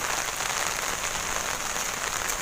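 Steady rain pours down, a dense, even hiss that stays loud and continuous throughout, with no voices heard.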